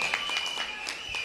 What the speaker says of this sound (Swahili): Mpigieni makofi Mheshimiwa Abdulswamad.